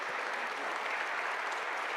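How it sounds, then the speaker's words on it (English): An audience at a panel event on foreign interference applauds the panel, a dense, steady wash of clapping that stays even and close throughout, with no voices on top. "A warm thank you and a warm applause for the panel tonight."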